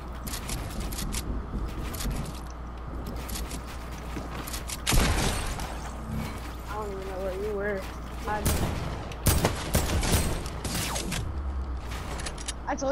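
Rapid bursts of gunfire from a video game shooter crackle repeatedly across the clip, mixed with mechanical clanks and game effects, with voices talking over the shots.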